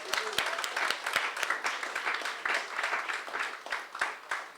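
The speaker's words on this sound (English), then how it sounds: "let's give another round of applause to our chairman, Omali Yeshitela." Audience applause at a political party congress plenary for the chairman: a smaller crowd clapping with distinct, fairly sharp individual claps in an uneven rhythm, moderately quiet and continuous.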